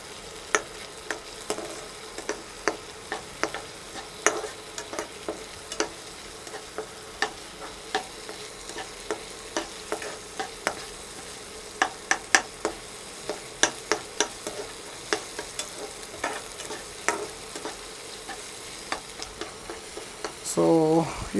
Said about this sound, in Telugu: టమాటా బాగా ఫ్రై అవ్వాలి.